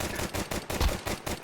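Rapid bursts of gunfire from the video game Counter-Strike 2 rattle in quick succession, fairly quiet and dense, with no speech over them.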